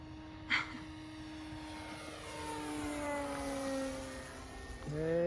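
A Nexa P-47 RC model warplane with invasion stripes drones overhead on a maiden flight, its propeller tone sliding down in pitch as it passes, moderately distant and steady, with a short bump of nearby noise early on.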